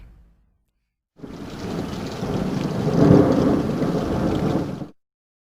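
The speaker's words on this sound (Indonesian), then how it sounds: "Tiba-tiba hujan turun dengan lebatnya, beserta sambaran petir." Heavy rain roars steadily while thunder rumbles, swelling to a loud low peak midway before cutting off abruptly.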